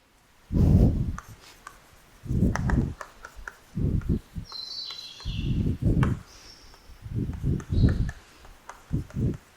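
Chalk or marker on a board while working out a matrix inverse, heard as close bursts of scraping strokes in an irregular rhythm, with a few faint squeaks between them.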